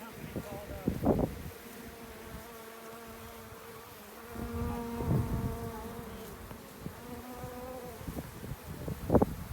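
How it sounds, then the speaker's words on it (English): Honey bees buzz steadily around a beehive being removed in the desert, with a constant close hum and several louder swells as individual bees pass near, and no talking. "We're catching the bees."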